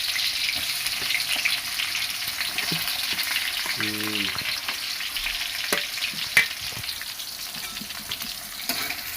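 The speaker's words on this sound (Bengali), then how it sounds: "তেল দিয়ে দিলাম আমরা এখন পেঁয়াজ দিয়ে" Onions frying in hot oil, a dense, loud, continuous sizzle heard up close, with occasional stirring scrapes and soft knocks against the pan, and no talking.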